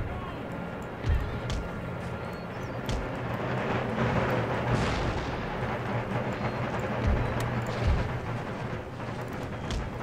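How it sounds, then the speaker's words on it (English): Artillery fire in Empire Total War, with deep booming cannon blasts scattered over a dense battlefield din of musketry and rumbling, loud and continuous across the scene. "our artillery just opened up and wrecked house"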